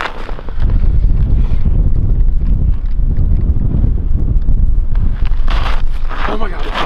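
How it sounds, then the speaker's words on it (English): Strong wind batters the microphone on a frozen lake during winter ice camping, a loud continuous roaring buffet lasting throughout, with voices briefly audible near the end. "Oh man, this wind is brutal."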